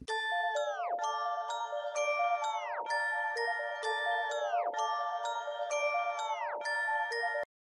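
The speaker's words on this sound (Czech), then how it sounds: "Tady toto cinkání úplně, jak kdyby to byla nějaká vánoční koleda" Bright, repeating bell-like chimes ring out in a rap track, struck in a steady rhythmic pattern with each tone ringing then dropping off, played alone and clearly without voices.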